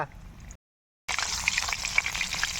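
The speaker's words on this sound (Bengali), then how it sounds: "এই না একটু ভালো করে ভেজে নিই" Chilli chicken fried rice sizzles and crackles in a pan, broken by a short gap of silence before the frying resumes, louder and steady.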